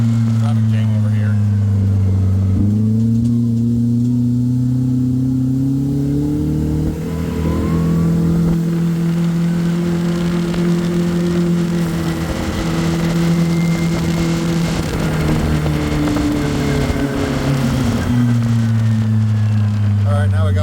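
A car fitted with a LaRue plug-and-play stand-alone ECU and premium turbo kit drives down the road at operating temperature, its engine a loud, continuous drone that dips and rises with shifting revs, heard from inside the car.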